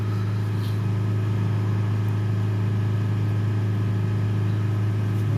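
Range Rover Evoque 2.0 diesel engine held steady at 3000 RPM with a restricted particulate filter, a loud, constant droning hum with no change in pitch, running alone without speech.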